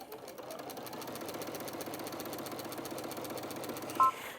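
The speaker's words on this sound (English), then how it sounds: "I'm going to go back to a straight stitch. I'm going to do a couple of securing stitches and then just come forward." A Brother Innov-is VQ2 sewing machine runs a straight securing stitch with a quiet, even mechanical whir and a rapid needle rhythm, ending in a short click.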